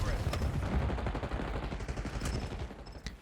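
Jackal PDW submachine gun fire in the shooter Black Ops 6: dense, rapid automatic bursts that stay loud and close throughout, with sharper cracks near the end.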